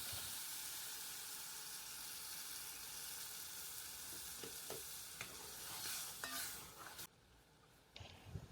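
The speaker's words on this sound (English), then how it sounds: "Stir again, cover and cook for about 3 minutes on medium heat." Tomato puree being stirred in a pot of potato, cauliflower and mushrooms, giving a soft steady sizzle with a few scraping strokes and spoon knocks near the end.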